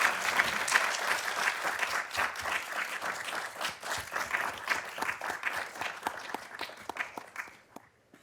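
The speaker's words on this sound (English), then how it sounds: "can we please give this group a round of applause?" An audience at a Transgender Day of Remembrance event applauds, a dense stretch of many hands clapping that holds steady and then thins and fades out near the end.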